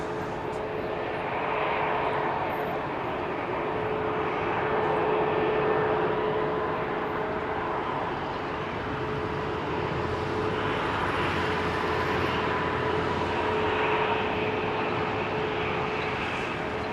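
An Airbus A320 airliner bound for Edinburgh roars steadily with loud, sustained jet engine noise while taxiing or taking off at Heathrow, filling the whole stretch.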